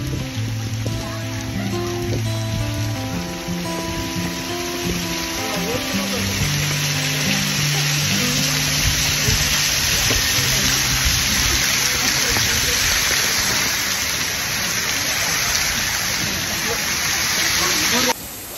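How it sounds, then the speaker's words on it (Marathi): A waterfall pouring down from above, a steady broadband rush of falling water filling the whole clip at close range, while a voice talks over it throughout. "पण आता आलोय या वॉटरफॉल जवळ."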